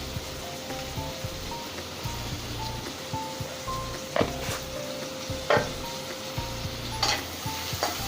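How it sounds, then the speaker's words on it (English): Finely chopped onions with a pinch of salt sautéing in a pan, a soft continuous sizzle broken by a few sharp spoon scrapes and stirs against the pan, close and fairly quiet. "And we'll saute this and let it cook, but not completely."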